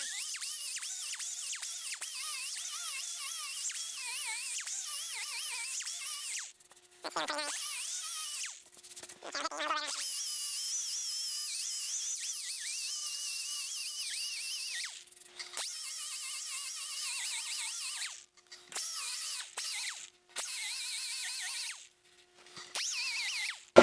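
Orbital sander with 120-grit paper working an aluminum Jaguar E-Type bonnet, a steady bright whine that cuts in and out through repeated short starts and stops, with no talking.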